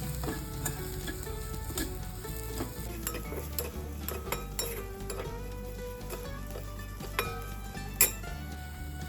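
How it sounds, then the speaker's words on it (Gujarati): Spiced bitter gourd sabzi with coriander-cumin powder is stirred in a frying pan, giving a dense, steady sizzle with frequent close spoon scrapes and light metallic clinks against the pan. "અને બધું હલાવી લઈશું"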